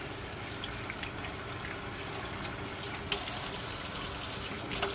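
Tap water runs steadily while asparagus spears are rinsed at a kitchen sink, a continuous close gush whose splashing brightens slightly partway through.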